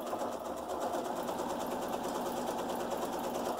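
A serger stitches a curved seam on a fabric face mask with a steady, fast mechanical whir heard up close, running without pause.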